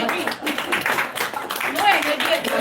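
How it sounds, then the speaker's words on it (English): Audience members at a business meeting clap in a dense, continuous patter of hand claps, loud and close, with voices mixed in beneath the applause. "Please clap."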